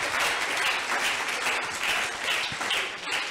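A church congregation claps steadily, many hands giving a dense, even patter of loud applause, with nothing else over it.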